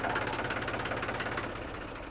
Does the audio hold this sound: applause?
no